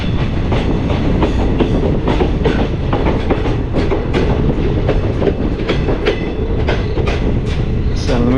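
Loud, continuous rumble of a Konkan Railway passenger train running at about 70–75 km/h near Sangameshwar, with rhythmic clacking of wheels over joints and a brief squeal near the end.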